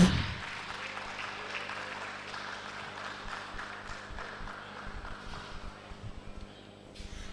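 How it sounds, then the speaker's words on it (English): Audience applause at an African EdTech conference dinner and awards ceremony, greeting the startup pitch winner; a steady, fairly faint wash of clapping fills the whole stretch, with scattered sharper claps near the end. "A round of applause for Code 14 Lab."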